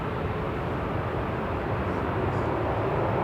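A KLM Embraer E2 airliner taxiing at Manchester Airport, heard as a steady, broad engine rumble and hiss that holds constant throughout without any break.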